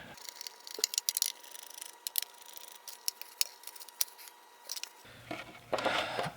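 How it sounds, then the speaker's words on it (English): Screws being worked out of a Mazda FD RX-7 side mirror housing produce a series of small, close metallic clicks and ticks at an uneven pace, fairly quiet, ending with a brief rustle of handling. "I will go ahead and remove these screws"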